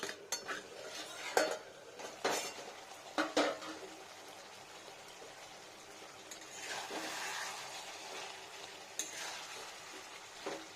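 A metal lid set onto and lifted off a pot of ridge gourd and potato curry, several sharp clanks and clatters early on, followed by a quieter stretch of soft sizzling and light stirring, heard close with no voices.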